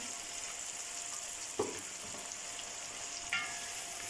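Masala sizzling steadily in a pan over low heat while water is added for aloo baingan, a constant frying hiss with a couple of brief louder bursts from the splash.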